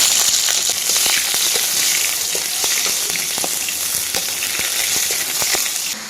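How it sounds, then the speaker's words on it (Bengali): Chopped onion and five-spice seeds fry in hot oil in a wok, giving a dense, constant close-up sizzle with scattered crackles and the occasional tap of stirring, and no voices. "কড়াইতে তেল দিয়ে দিচ্ছি একটু পাঁচফোড়ন পেঁয়াজ কুচি"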